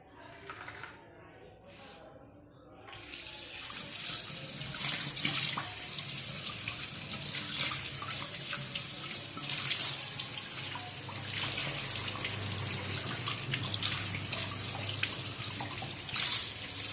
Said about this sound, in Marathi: याला स्वच्छ पाण्याने धुवायचं